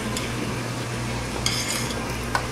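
Cut potatoes are stirred into a mix in a pan, giving a steady soft scraping and sizzling texture with a couple of faint clinks, close by and with no voices.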